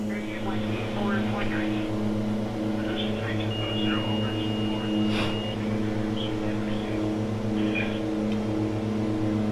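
A Twin Otter's twin turboprop engines drone in Microsoft Flight Simulator, holding a steady, loud, layered hum while climbing, with a brief higher whine partway through and some talk over it.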